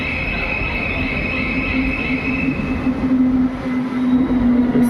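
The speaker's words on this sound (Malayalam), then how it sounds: "മെട്രോ വന്നു" Metro train arriving at a station platform, a loud continuous rumble with sustained high wheel squeal and a rising brake tone as it slows, heard up close without speech.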